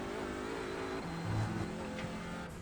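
An Audi TCR race car in iRacing on the Nürburgring drones with a steady, close engine note that climbs under acceleration as the throttle opens.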